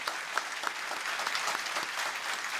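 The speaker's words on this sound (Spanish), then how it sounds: "Demos un fuerte aplauso al pastor Medardo Gómez" An audience gives a steady round of applause for a pastor at a theological debate, with dense, moderately distant clapping continuing throughout and no one speaking.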